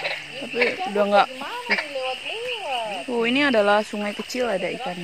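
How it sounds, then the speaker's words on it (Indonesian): Frogs croak near a small river with fish at night, a steady chorus running under someone speaking close by. "Kita hari ini ditemani oleh suara kodok ngorek, guys"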